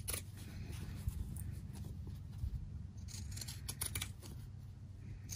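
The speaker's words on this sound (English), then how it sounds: "I can just trim it down." Scissors trim quilt fabric for a quilt-as-you-go egg mug rug, giving a series of crisp, close snips over a low, steady background hum.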